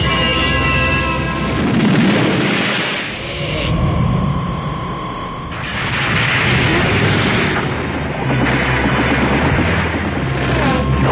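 Dragon Ball Z anime: a rumbling, roaring blast as Majin Buu levels a city, with a deep sustained boom swelling and fading in waves alongside bright whooshing energy noise and a rising tonal whine.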